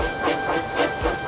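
A small steam engine runs on the rails with a rhythmic clickety-clack and soft hissing, its beats repeating roughly every quarter second, steady and close.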